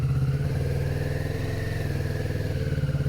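A Kawasaki motorcycle engine runs steadily and close by with a low, throbbing pulse and a faint rattly clatter, consistent with clutch judder.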